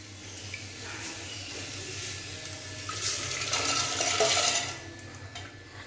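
Vegetables and rajma dropped into a sizzling tadka and stirred, a low steady sizzle that surges into a louder splashing hiss midway, then settles, with no one speaking.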